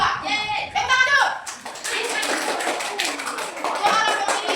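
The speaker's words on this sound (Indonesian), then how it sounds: "Tepuk tangan dulu untuk kelompok satu." A classroom of schoolchildren claps for a student group during a human respiratory system lesson, a dense burst of many small hands tapping quickly, close and lively, with children's voices mixed in.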